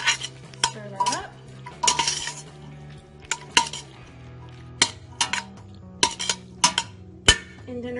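Soup stirred in a pot with a utensil, with repeated sharp clinks and scrapes against the sides in an irregular rhythm, close and distinct, without talk.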